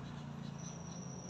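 Crickets kept for home breeding in a small box chirp faintly and steadily above a low background hum, with a thin, continuous high-pitched trill.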